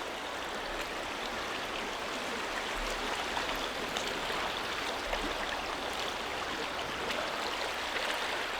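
Water in Catherine Creek flows steadily, a soft, even broadband rush with no voices or breaks.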